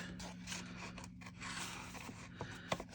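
Scissors cut through paper for a junk journal page, producing faint close snips and soft scraping rustles over quiet room noise.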